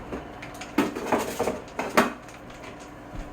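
Metal pan lid clatters onto a pan with butter in a home kitchen, a few close clinks and knocks in a short burst, then quiet.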